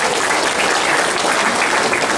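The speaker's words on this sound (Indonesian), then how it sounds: "Tepuk tangan untuk teman-teman kita." Sustained, dense applause from a crowd at a Sunday-morning religious gathering, loud and even from start to finish, with no speech rising above the clapping.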